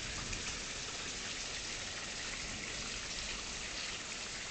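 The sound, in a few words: rain letting up after a thunderstorm in Tulsa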